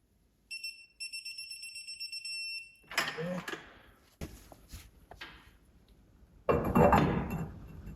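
Bolts on a Can-Am X3 CV axle are tightened to 77 foot-pounds, bringing a pair of high steady beeps, then sharp metallic clinks and knocks close by, with someone talking between them.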